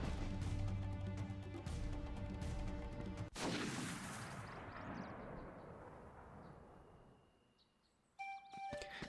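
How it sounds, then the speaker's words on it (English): A sudden loud gunshot in the video game Kingdom Hearts cuts through layered game music, then rings out in a long fading echo before the music returns. "a gunshot came from over here"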